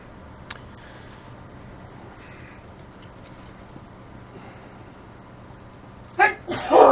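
A sneeze bursts out near the end of a session of online dueling in a Czerka arena, loud and close after a long stretch of quiet background hiss.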